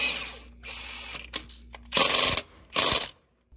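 Impact gun bursts on a bolt while fitting an alternator kit to a RZR, two loud buzzing rattles about half a second each, preceded by clicking ratchet-like handling noises and a brief whine.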